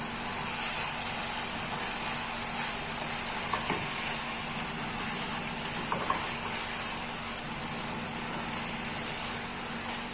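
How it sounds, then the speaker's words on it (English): Edikaikong soup with crayfish and smoked fish simmers in a pot, making a steady soft hiss and low bubbling, with a couple of faint clinks. "So just leave it to simmer"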